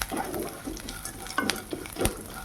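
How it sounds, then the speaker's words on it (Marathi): Roasted split chickpeas fry in a little oil in a pan, a soft crackling sizzle punctuated by a few sharp stirring clinks and scrapes, close and moderately quiet. "2 छोटे चमचे मी फुटाण्याची डाळ घेतलेली आहे. ती पण यात आपण काय करूया, परतून घेऊया."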